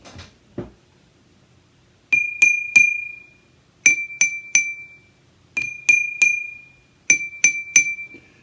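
A drinking glass partly filled with water is struck and rings at a lower pitch, with clear bright pings in three groups of three evenly spaced taps, each tone sustaining briefly in a quiet room.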